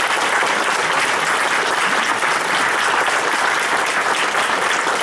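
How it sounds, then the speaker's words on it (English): Loud, dense applause from the audience at the close of a Republican primary debate for a Pennsylvania state representative seat at ESU, a continuous wash of clapping filling the whole stretch. "Let's give a round of applause."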